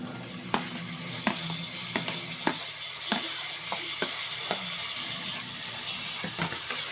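Tomato going into a frying pan of vegetable keema curry with fenugreek leaves: a close, steady sizzle punctuated by sharp spoon clinks and stirring taps, the hiss swelling near the end, no voices.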